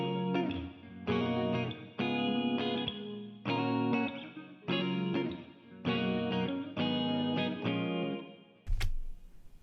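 Electric guitar chords strummed in repeating phrases, washed in chorus, reverb and delay that smear each hit into a shimmering tail, ending with a sharp thump.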